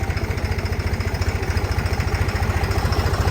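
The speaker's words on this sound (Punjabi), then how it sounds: "ਆ ਟਰੈਕਟਰ ਖੜਾ ਰਾਜਨਾ" A tractor's diesel engine idles nearby, a steady low rhythmic chugging with even pulses and no voices.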